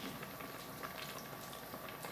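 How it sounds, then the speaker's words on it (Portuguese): Vegetables bubble away in a pot on a home stove with a soft, continuous boil, quiet and steady and heard alone. "Vai ficar cozinhando aqui os legumes."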